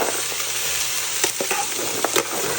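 Celery and zucchini sizzle in a hot pan for a lighter chicken and dumplings, a close continuous frying hiss broken by a few light clicks of stirring, with no voice.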